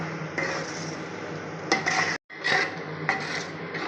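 Curd being stirred into chicken biryani masala in a cooking pot, a steady scraping and rubbing of a spoon against the metal with soft clinks, close and continuous, with a brief pause partway through.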